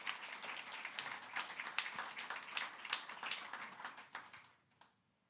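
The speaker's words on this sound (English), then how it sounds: "have a big round of applause for them" Audience applause at a Google AI/ML summit as panelists come up on stage, dense steady clapping from a large crowd that tapers and fades out near the end.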